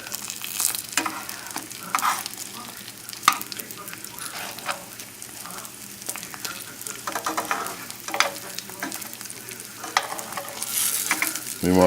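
Eggplant slices frying in oil in a pan over a moderate flame give off a steady, close crackling sizzle with scattered sharp pops that runs unbroken for the whole stretch.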